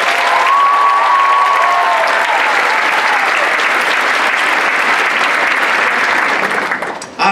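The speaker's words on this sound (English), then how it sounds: "Can I just have another round of applause for the incredible organizers and the incredible" A large audience at the Arab Xpressions performance night claps loudly and steadily, with a high whoop of cheering rising early on, before the applause drops away abruptly near the end.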